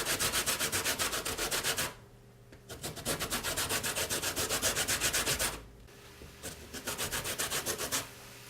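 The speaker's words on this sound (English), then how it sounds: "I'm actually going to get started on doing the lemon zest. So just get a grater like this" A lemon scraped against a handheld grater for zest, a steady, rhythmic rasping in fast strokes, with two short pauses between runs and no talk.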